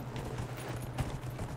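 Horse hooves clop in a steady, faint rhythm under a constant background hum as a horse is ridden in the fantasy video game Dragon Age: Inquisition.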